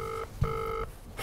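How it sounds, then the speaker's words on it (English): A telephone on speakerphone gives two steady electronic ring bursts with a pause between them, picked up through a live-stream mic, clear and fairly close. "it's ringing, everyone"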